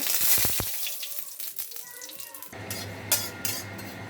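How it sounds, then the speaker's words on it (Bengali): Asafoetida dropped into fennel and nigella seeds frying in a little hot oil, with a soft crackle and sizzle, a few light utensil clinks, then a steadier low hiss. "ফোড়নের মধ্যে আমি মৌরি ও কালো জিরে দিয়েছি। এখন কিছুটা হিং দিয়ে দেব।"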